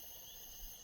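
Cicadas chirp in a fantasy tabletop game's background ambience, a faint, steady high-pitched insect drone that runs continuously without pause.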